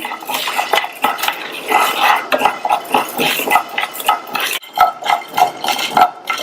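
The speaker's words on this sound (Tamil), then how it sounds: "இதுல 1/4 கப் ஜவ்வரிசியை சேர்த்துட்டு ஸ்டவோட தீயை கொஞ்சம் குறைச்சிட்டு இந்த ஜவ்வரிசியை பொரியிற வரையும் வறுத்துக்கலாம்" A quarter cup of sago pearls roasts in a pan on a low flame for payasam, with a busy, close run of spoon scrapes, clinks and stirring against the metal pan.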